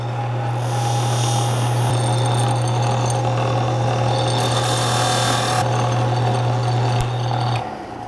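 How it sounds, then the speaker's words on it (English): A bench buffing wheel polishes a soft steel carving tool, producing a loud, steady motor hum with a constant tone and brief shifts as the blade meets the wheel, with no talk. "buffing wheel."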